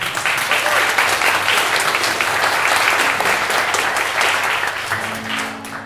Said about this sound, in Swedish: Vi kan ge en liten applåd för honom för det.